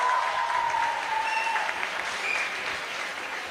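An audience at a physiotherapy conference applauds a quiz team, a dense burst of clapping that slowly fades, with a faint tone ringing over it.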